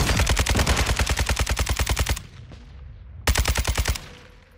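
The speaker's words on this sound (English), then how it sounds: "I'm gonna start shooting now." Rapid automatic gunfire from a video game rattles out in one long loud burst, then a short pause, then a second shorter burst close up, with no talking.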